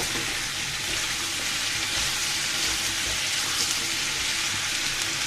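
Sweet pumpkin fries in a pan, giving a steady, faint hiss of sizzling oil that continues without pause and without any talk.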